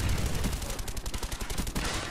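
An AK rifle fires on full auto in Call of Duty: Black Ops on the Nuketown map, played on PC. The sharp shots come in a fast, even rhythm, close and steady for about two seconds.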